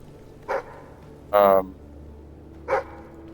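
Three short barks from a dog in the Fable 3 video game, evenly spaced and moderately loud against a faint game background, the middle one stronger and more drawn out.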